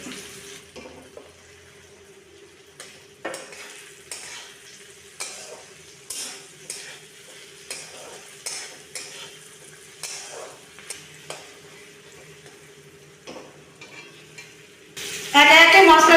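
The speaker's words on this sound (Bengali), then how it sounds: "এবার রসুন কুচি, আদা কুচি দিয়ে দেবো।" Chopped garlic and ginger hit a pan for jackfruit kofta curry, giving a soft sizzle punctuated by repeated stirring scrapes, then a sudden louder burst of sizzling at the end.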